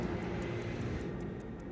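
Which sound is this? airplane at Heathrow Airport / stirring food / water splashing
airplane at Heathrow Airport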